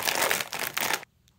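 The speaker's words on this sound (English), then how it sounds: "And it has fun sounds. Open it like a bag of chips." A Popin Cookin burger kit package crinkles open in a close, loud plastic rustle lasting about a second, then cuts to near silence.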